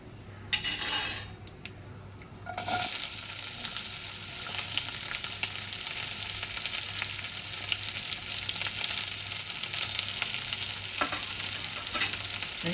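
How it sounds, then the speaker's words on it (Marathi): Whole spices (cinnamon, cardamom, mace, bay leaf, cloves, black pepper) and onion sauté in a pan for navratan pulao. A loud, bright, continuous sizzle swells after a brief lull, with a few metallic utensil clinks, close up and without speech. "दालचिनी, वेलची, जायपत्री आणि तमालपत्र, लवंग आणि काळी मिरी घेतले आणि परतून घेऊया"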